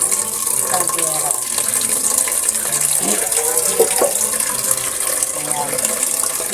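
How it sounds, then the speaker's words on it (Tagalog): Tap water runs steadily into a cooking pot, filling it for a kilo of spaghetti, a continuous rushing splash at moderate loudness with light background voices underneath. "Maglagay tayo ng ready ng tubig sa ating kaldero."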